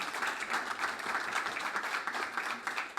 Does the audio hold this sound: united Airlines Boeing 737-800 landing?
no